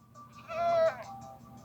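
A goat in the video game Minecraft lets out a single wavering bleat, close and fairly loud, over a low steady background hum.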